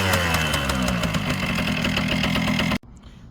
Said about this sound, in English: Kawasaki KM100, just kick it.